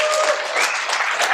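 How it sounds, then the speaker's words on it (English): Applause bursts from a conference crowd at a digital advertising event as speaker Dave Birss is introduced, a brief, dense burst of many hands clapping, loud and close. "let the applause burst for Dave Birss"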